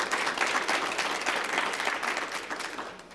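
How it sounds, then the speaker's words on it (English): Audience applause for the organizers of a small-business Q&A session: dense, steady clapping from a crowd that carries on throughout, easing slightly toward the end, with no talking. "Let's give them a round of applause."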